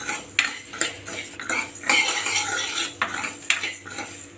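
A spoon stirs and scrapes urad dal as it dry-roasts in a metal pan over a medium flame, giving repeated close, clattering strokes with faint rustling of the lentils between them.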